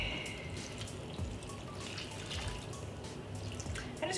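Water pours from a tap into a pot of vegan stuffing in a home kitchen, a soft, steady trickle with faint drips running continuously and close by, with no talking.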